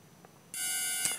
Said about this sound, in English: we have the beeps